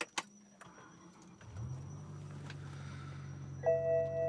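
A BMW E60 M5 with a fault is switched off and started again: a few short clicks and a chime, then a low, steady electric whine that rises and holds, with a higher tone joining near the end, close and fairly quiet.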